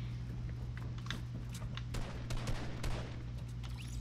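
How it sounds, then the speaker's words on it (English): Shotgun blasts and other gunfire from a Fortnite match crack in quick, scattered bursts over a constant low game hum, fairly faint and without any talk. "I hear someone with a shotgun."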